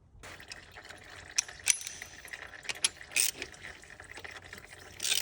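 A ratchet with a 24 mm socket working the oil drain plug on a Lifan KPT 250, giving quiet irregular metallic clicks and brief rattles close by, without speech.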